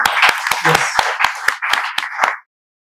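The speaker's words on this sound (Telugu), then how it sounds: "ఇక్కడ ఉండే విద్యార్థులు చప్పట్లతో స్వాగతం తెలియజేస్తున్నారు" Students clap in welcome, a loud burst of about ten sharp, evenly spaced claps that stops abruptly.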